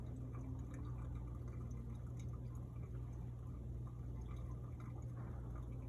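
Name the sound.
water pouring over coffee grounds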